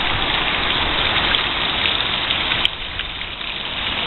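Heavy rain from tropical storm Isaac falls in Florida, a loud, even wash of water that continues throughout and eases slightly near the end, with no talking.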